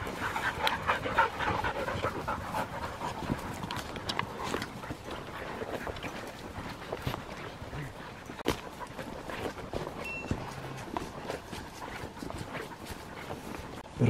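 A hunting dog pup pants steadily and close by in native bush beside pine forest, with rustling movement and footsteps through undergrowth and someone talking at times.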